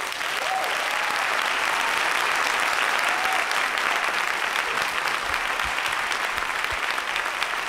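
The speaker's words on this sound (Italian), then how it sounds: "vi chiedo solo un applauso per un pezzettino piccolo piccolo dei The Jackal." A studio audience applauds for The Jackal, a steady, dense wash of clapping that holds at full strength throughout, with faint laughter and voices underneath.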